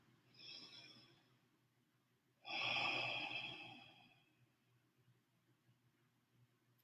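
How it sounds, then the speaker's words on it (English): Two deep cleansing breaths, taken slowly and close, during a meditative check-in: a softer inhale first, then a louder, longer exhale with a breathy rush that fades out before quiet returns. "Taking a few deep cleansing breaths."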